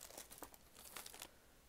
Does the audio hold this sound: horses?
no